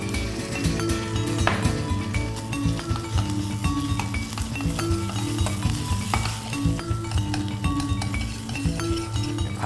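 A utensil scrapes and clinks steadily against a frying pan while thick paste, with brown sugar, sizzles, fries and sticks to the pan bottom, continuous and close with no talking.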